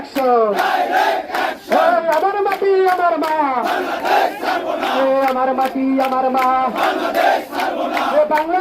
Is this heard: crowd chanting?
yes